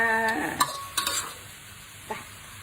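Fried rice with pork and egg being stir-fried in a pan: a steady sizzle with a few sharp scrapes and clanks of the utensil against the pan, close and alone.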